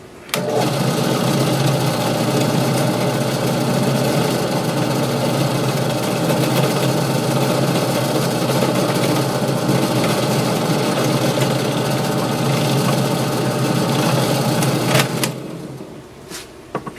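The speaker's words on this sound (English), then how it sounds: "Alright, we got our hole drilled here. We don't need to go all the way through that." A power drill boring a hole partway into wood for a scroll-saw sign, a steady loud whirring drone that holds constant for about fifteen seconds, then cuts off, followed by a few faint clicks.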